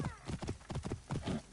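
A horse's hooves clip-clop in a steady, quick rhythm in the video game Assassin's Creed Origins, close and fairly soft, with a faint whinny-like tone at the start.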